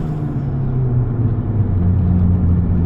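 Ford Fiesta ST hot hatch accelerating through first and second gear, heard from inside as a loud, steady low engine drone and road rumble with rising tones as the revs climb.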